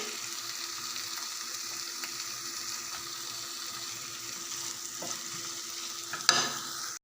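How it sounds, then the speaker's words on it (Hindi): Eggplant bharta fries in oil, the mash sizzling steadily and softly at close range. A sharp knock sounds near the end. "अब इसे हम तकरीबन 6 से 7 मिनट ऐसे भून लेंगे"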